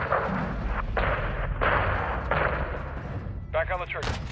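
Heavy gunfire from the Modern Warfare II campaign, with armored vehicle engagement: loud broadband bursts in quick succession, then a brief ringing, mechanical burst near the end.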